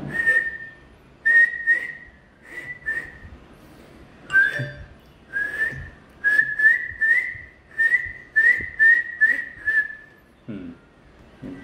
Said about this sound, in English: Whistle? I'll show you.